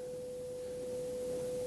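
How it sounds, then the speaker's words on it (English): A steady pure 500 hertz sine test tone holds at constant pitch and loudness throughout, alone and unbroken, over a faint background hiss. "And this is the 500 hertz tone."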